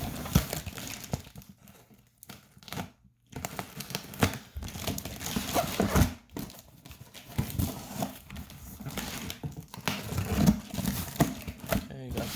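Cardboard and plastic packaging on an LG Gram 17 laptop box being cut open, irregular crinkling, scraping and tearing rustles close by, with brief pauses between strokes.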